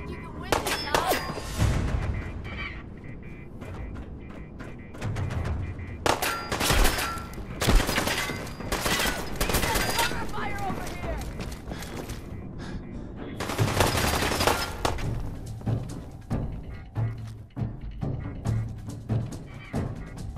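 Sustained battle in Fallout 4 at the Corvega Assembly Plant in Lexington: loud, dense gunfire and clattering bursts rolling on for twenty seconds, with metallic clangs and a voice shouting over the shooting.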